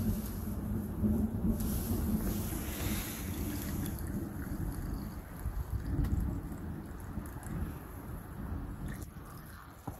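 Wind blows steadily outdoors at a campfire beside a lean-to shelter, a constant low rumbling buffet against the microphone with gusts swelling and easing over ten seconds.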